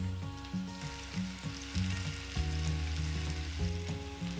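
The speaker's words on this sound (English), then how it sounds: "Add the meatballs to the pan and cook for around 6 to 8 minutes." Turkey meatballs sizzle and crackle steadily in hot oil in a pan, close and continuous, with a low musical hum underneath.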